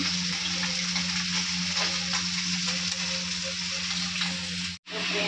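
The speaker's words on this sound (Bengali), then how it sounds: "মাছগুলো ভাজা বসে দিচ্ছি, ভাজা হচ্ছে।" Fish fries in a pan with a steady, even hiss of hot oil close up, alongside a low hum. Brief faint taps sound throughout, and the sound cuts out for a moment near the end.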